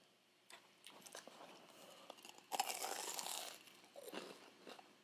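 Biting into a crunchy fried Jollibee peach mango pie, a fried empanada-style pastry: faint crackles, then a louder close crunch of the crust, followed by soft chewing, with no talking.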